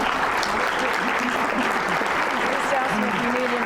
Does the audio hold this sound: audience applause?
yes